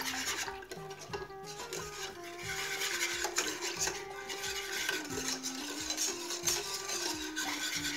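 A milk-based homemade ice cream mixture with strawberry flavouring being stirred in a bowl, soft scraping strokes against the sides repeating at a steady pace, quiet and close with no talk.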